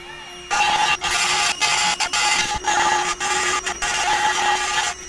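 A Snapmaker 3-in-1 3D printer/laser/CNC machine runs a laser engraving pass for a deeper cut, giving a steady mechanical whir with a faint tonal hum, broken by several short regular pauses as the head moves.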